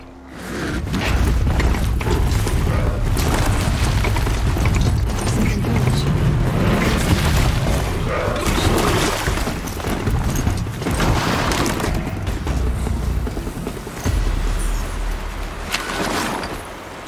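Corrupted Watcher machines closing in within Horizon Zero Dawn, a dense, loud rumble of mechanical clanks and booming impacts running continuously, with heavier bursts midway and near the end.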